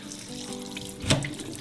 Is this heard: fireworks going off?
no